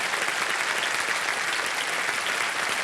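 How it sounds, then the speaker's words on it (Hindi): Studio audience on a televised Hindi quiz show, Kaun Banega Crorepati, applauding a contestant: dense, steady clapping from a full crowd, sustained at even loudness throughout with no voices on top. "ताली बज जाए इनके लिए।"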